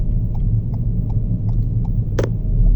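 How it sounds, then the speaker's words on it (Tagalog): Road traffic in a congested jam: a steady low engine rumble from idling and creeping cars, with faint intermittent ticks and one brief brighter hiss near the end, no talk. "Ganyan ka traffic dito."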